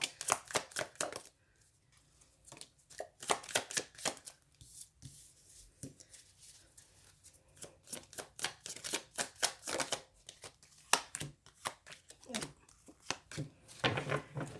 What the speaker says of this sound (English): Now let's just pull some cards and see what the cards have to say.